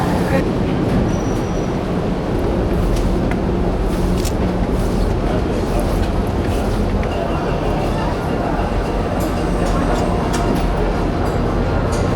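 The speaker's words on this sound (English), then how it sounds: "This is the train to Third Street." Steady low rumble of a New York City train in motion, a continuous rolling drone with faint rattles and higher squeaks throughout, heard from inside or close by.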